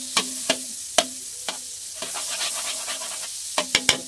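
Margarine melting in a hot pan, a soft sizzle under a series of sharp utensil taps and clinks against the pan, spaced irregularly and heard up close.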